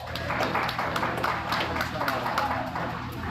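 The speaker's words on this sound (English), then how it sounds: "let's give all these exhibitors a nice big round of applause" Audience around the ringside at a hog show jackpot giving exhibitors a round of applause, a faint, distant patter of clapping over hall ambience with scattered murmuring voices.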